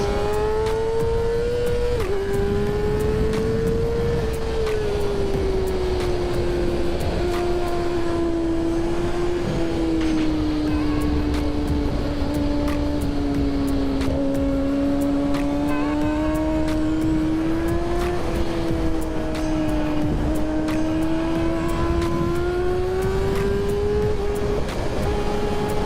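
On the ThunderHill West race track, a near engine drones loud and continuous under hard riding, its pitch sliding up and down through gear changes while other machines pass close by; no voices.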